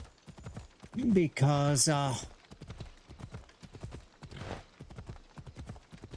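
Rhythmic clip-clop of trotting horse hooves in Assassin's Creed Odyssey runs under someone talking, with a loud burst of vocal sound partway through.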